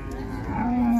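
Cattle at a livestock fair in Águas Belas, a single drawn-out moo rising out of a noisy crowd background and swelling toward the end.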